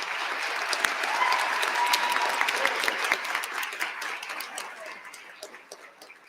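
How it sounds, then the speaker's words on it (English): Audience applause fills a university convocation hall, a dense, sustained clapping that swells early and then gradually fades away over several seconds. "Let's give them a round of applause."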